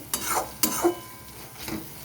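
Ridge gourd (nenua) frying in a pan over medium heat, with a few sharp stirring scrapes and bursts of sizzle standing out over a low, steady frying hiss.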